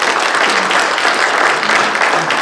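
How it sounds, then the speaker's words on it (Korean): Applause from an audience at an inauguration ceremony for a New Jersey Korean church council's president and board chairman, dense and steady clapping filling the room at close range, with no voices. "박수 한번 부탁드립니다."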